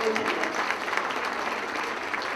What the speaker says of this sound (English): Give yourself a round of applause for everyone.